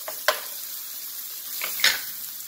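Lean venison or elk stir-fry sizzling in a pan, with a steady hiss broken by a few sharp scrapes and clinks as it is stirred.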